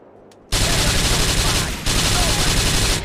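Loud, dense automatic gunfire bursts out abruptly in a GTA IV shootout, a sustained rattling fusillade that briefly dips then resumes, close and dominant.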